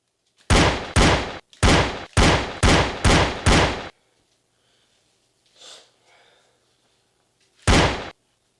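Seven sharp, loud gunshots fired at an apple, the first six in a quick, fairly even series, then a pause with faint rustling before one final shot.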